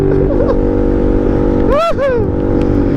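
A Yamaha M-Slaz 150cc motorcycle fitted with a cone exhaust roars loudly up close. Its engine note climbs and falls in one sharp rev burst before the steady drone returns.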